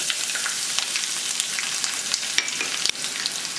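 Ginger and garlic sizzle in hot oil with urad dal, a steady crackling fry up close with a few sharp pops and stirring scrapes, no voices.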